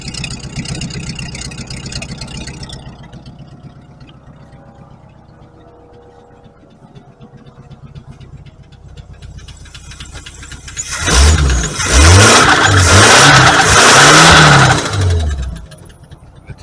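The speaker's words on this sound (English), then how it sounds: "I'm just glad it's running on all 8 cylinders now." A vintage car's V8 engine with no exhaust fitted idles with a rough, steady rumble, then revs hard several times in a row, loud and close, before settling back down, with no talking.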